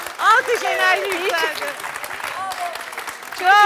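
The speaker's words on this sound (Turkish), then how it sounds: "Hadi alkış verelim. Alkış." A studio audience on a Turkish talk show claps in short bursts, mixed with prominent voices and exclamations from the crowd.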